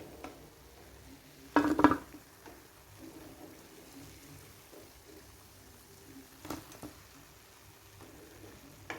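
Idli-batter mini bondas lifted out of hot frying oil, a soft bubbling sizzle under a brief clatter of a utensil against the pan, followed by a few quieter scrapes.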